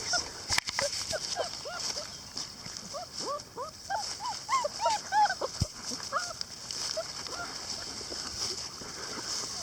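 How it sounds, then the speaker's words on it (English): A litter of puppies yips, barks and whimpers in quick overlapping bursts, high and close, scattered busily across the middle before thinning out, over a faint steady background hiss. "Go puppies. Go puppies."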